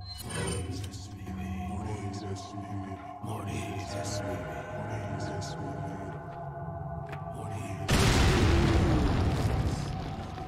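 A sudden heavy grenade blast erupts near the end in the survival horror game Resident Evil 4, preceded by a stretch of quieter game ambience, clicks and movement.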